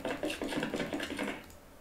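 A footstep sound cue in Unreal Engine 4 plays with randomized volume and pitch. It sounds as a quick run of about seven close, soft steps in under two seconds, with no talking.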